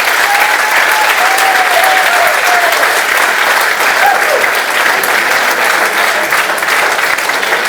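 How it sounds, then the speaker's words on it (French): Sustained applause from an audience at a school or club ceremony, a dense steady wash of many hands clapping throughout at even loudness, with no talk over it. "On peut les applaudir encore une fois."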